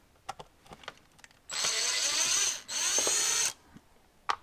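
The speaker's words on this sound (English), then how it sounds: "Again, you shouldn't be using power drills like this" A power drill turns a T10 bit while working on a BMW X5 subwoofer upgrade, running in two steady whirring bursts of about a second each with a short break between, amid faint clicks and handling noise.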